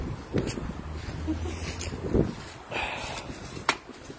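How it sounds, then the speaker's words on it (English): Wind gusts outdoors buffet the microphone in surges and rushes, with brief sounds of people nearby and a sharp knock. "Let's get out of the wind for a minute."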